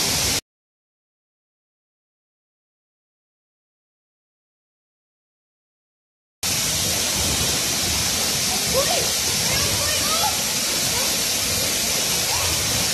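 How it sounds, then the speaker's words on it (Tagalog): Steady broadband roar of Seven Falls, the tallest waterfall at Lake Sebu, loud and constant after a stretch of silence at the start, with faint bird-like chirps over the rushing water. "Ang pinakataas na waterfalls dito po sa Lake Cebu."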